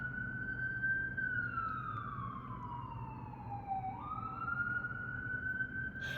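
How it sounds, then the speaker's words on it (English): A distant siren wails, its tone sliding slowly down and then climbing back up over a low steady rumble of background noise. "You can hear these sirens?"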